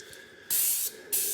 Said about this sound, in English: So first we're going to spray the pan.